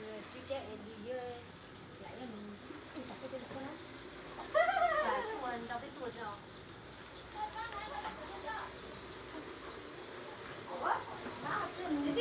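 A dog whimpers and yips in short, high-pitched bursts against steady insect and cricket chirring, with the cries growing louder near the middle of the clip and again toward the end.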